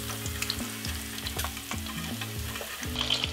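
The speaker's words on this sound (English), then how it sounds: "Once you have let it deep fry for 4 minutes on each side" Steady crackling sizzle of a pork cutlet deep frying in hot oil for tonkatsu, fairly loud and continuous with no voices.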